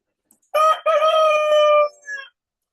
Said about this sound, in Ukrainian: Звісно, це півнико